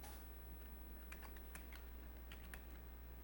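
Several quick keystrokes are tapped out on a computer keyboard while a command is entered, faint clicks spaced irregularly over a low steady background hum.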